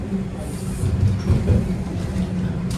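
A Toronto TTC subway train slows down, its steady rumble and rattle filling the car from close by with no voices.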